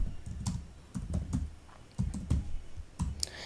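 Bursts of close computer keyboard typing while writing PHP switch statement code, uneven clusters of key clicks with short pauses between, no voice.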